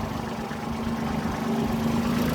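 A tractor engine runs steadily at a low, even idle-like drone, close and continuous with no talk over it.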